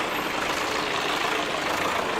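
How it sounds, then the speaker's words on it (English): A 1984 ERF 290 tractor unit engine running at a show, a steady, loud, broadband diesel rumble that holds evenly close by with no pauses. "an ERF 290 tractor unit. This is 1984"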